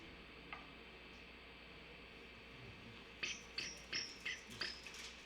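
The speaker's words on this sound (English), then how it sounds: "Crickets out there." Crickets chirping outside during a sermon, a series of about six short, sharp chirps at a steady rhythm over a quiet hum, faint and distant-sounding.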